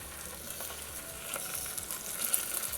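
Beans, carrot and green peas sauté with onions in a pan for a mint rice dish, giving a continuous soft sizzle with faint stirring scrapes and no talking.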